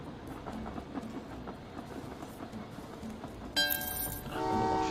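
A train rumbles along in the Train Valley 2 railway-building video game, a steady rolling noise followed by a bright horn or whistle blast and then a sustained tonal sound near the end; no talk.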